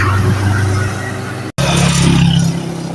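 A motorcycle-with-sidecar tricycle engine drones steadily up close on a ride back toward town in Abra, with a brief cutout midway before the low rumble resumes.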